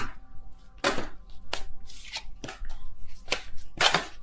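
Tarot cards being shuffled by hand, a series of crisp papery riffles and slaps in irregular bursts, fairly close and clear with no talking over them.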